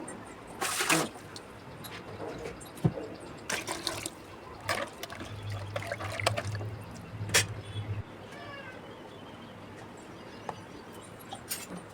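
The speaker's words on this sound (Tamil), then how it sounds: "புளி தண்ணி ஊற்றிக்கலாம்." Tamarind water trickles and splashes in short bursts into a fish masala of ginger-garlic paste for red pomfret fry, with faint clinks and handling noises between pours and no talk.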